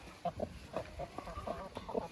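A broody hen clucks outside a poultry enclosure, a run of soft, repeated short clucks in an irregular rhythm, close and fairly quiet.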